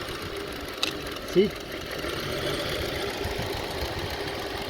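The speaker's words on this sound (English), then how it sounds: "When I disconnect this, you see the engine getting really shaking." A Honda CR-V engine idling roughly with one ignition coil disconnected makes a low, uneven rumble throughout, with a short spoken word and a few brief knocks near the start.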